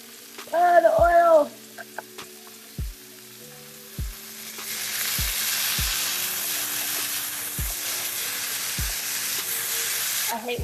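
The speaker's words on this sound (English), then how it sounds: "hate when the oil pops me." Oil sizzles steadily in a pan while cooking creamy Tuscan chicken, a loud continuous hiss with scattered sharp pops and taps of utensils, preceded by a brief voiced exclamation.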